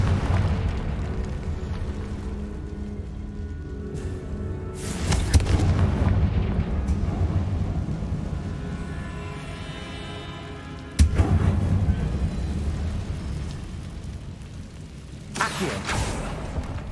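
Confringo fire spells in the video game Hogwarts Legacy burst in loud booming explosions, three heavy blasts with rumbling tails over a constant low ambient drone and scattered effects.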